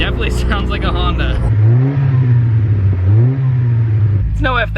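A modded 1988 Honda Prelude with an aftermarket exhaust revs up close, its note climbing and falling through two pulls, with talk at the start and end.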